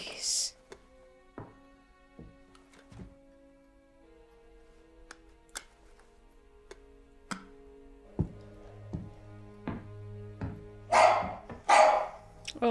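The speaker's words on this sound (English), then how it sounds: "Oh, the dog." A dog barking in a war drama scene, several sharp barks scattered among ticking, music and talking voices.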